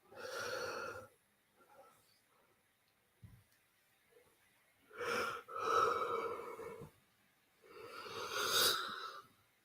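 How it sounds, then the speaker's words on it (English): A person yawns loudly and breathily near the microphone in several long drawn-out bursts, separated by quiet pauses, during a live watchalong of an Arsenal versus Manchester United FA Cup third-round match. "Horrible time to yawn."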